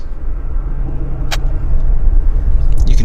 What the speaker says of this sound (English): WestJet making the taxi back.